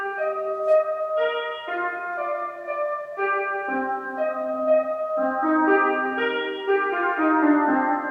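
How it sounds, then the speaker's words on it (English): Layered piano keys play a sustained chord progression, several stacked piano parts sounding together in steady, evenly loud harmonic chords that shift every second or so, with no talking. "I often layer up my keys with some more keys"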